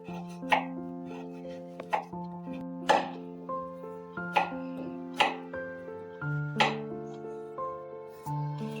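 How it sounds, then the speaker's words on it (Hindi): A knife chops a block of jaggery into small pieces, about a dozen sharp, knocking cuts landing at an uneven pace on a board. A steady tonal hum sits underneath. "सबसे पहले मैं इसको गुड़ को छोटे पीसीस में कट कर लूँगी।"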